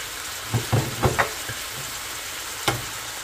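Garlic shrimp frying in a pan and being stirred, with bursts of utensil scraping over a constant sizzle, nearby and without talk.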